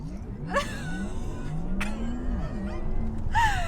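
A 2022 Porsche Taycan Turbo launches hard from a standstill, its electric drive whine climbing steadily in pitch with faint tyre and cabin noise alongside.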